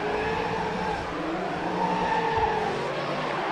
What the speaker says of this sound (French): on jette la voiture d'un côté, on la jette de l'autre pour glisser